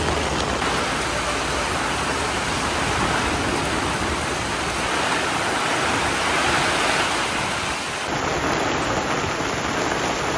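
Heavy monsoon rain falling steadily in Goa near the sea, a dense, continuous hiss of downpour with surf-like roar throughout, loud and unbroken with no voices.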